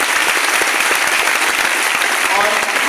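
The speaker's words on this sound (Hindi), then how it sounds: "उनके लिए एक बार जोरदार ताली।" An audience at an education company event breaks into loud, dense applause, sustained clapping close and full throughout, with crowd murmur mixed in.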